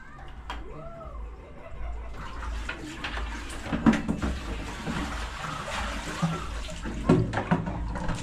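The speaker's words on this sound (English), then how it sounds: "Before putting the fruits over here, all tomatoes, you have to clean it." Tomatoes being washed in water, with continuous splashing and sloshing of running water, occasional knocks and handling sounds, at moderate loudness close by.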